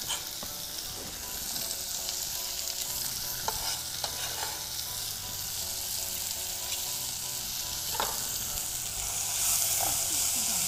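Onion and garlic fry in a pan, a bright steady sizzle with intermittent stirring scrapes and taps, heard up close, with a faint voice briefly in the background.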